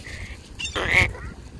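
Duck being fed birdseed outdoors, giving a single short nasal quack near the middle, close by, with faint background ambience around it.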